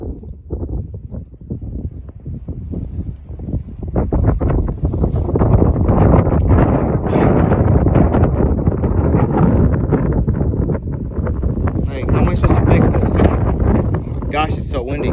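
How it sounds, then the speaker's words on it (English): Strong wind roars and buffets the microphone, building after a few seconds and staying loud, with a voice speaking faintly beneath. "Gosh, it's so windy all of a sudden."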